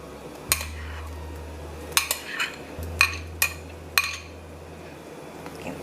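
Spices, garlic, wiri peppers, onion and green onion for a Christmas lamb dish being mixed in a bowl, with sharp metal spoon clinks against the dish coming in irregular bursts over a faint low hum.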